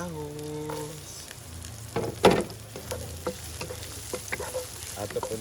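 Garlic frying in a pan, a soft steady sizzle broken by a few louder clinks and scrapes of stirring.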